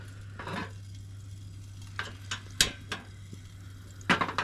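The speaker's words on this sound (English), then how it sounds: "Let's keep it at a slow sear." Red snapper sears slowly in a pan inside a campervan, giving a faint low sizzle under a steady hum, broken by a few sharp scrapes and clinks of utensils against the pan.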